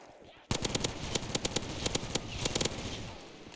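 An A94 gun fires in Black Ops 3 zombies on a custom Krusty Krab Tower map: a sudden, sustained stream of rapid, close, punchy shots that tails off at the end.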